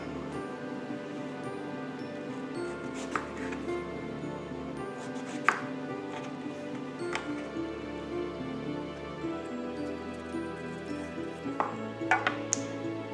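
A home-grown, overgrown zucchini is peeled and sliced with a knife, giving a few crisp cutting clicks and scrapes spaced over a quiet kitchen hum.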